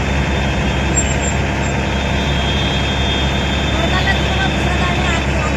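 Water tanker truck arriving at a fire caused by electric wires, a loud steady heavy engine rumble close by, with voices talking over it.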